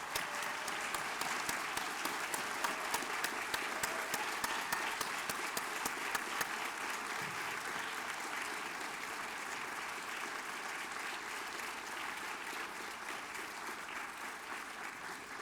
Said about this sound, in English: Would you please join me in giving them a big round of applause?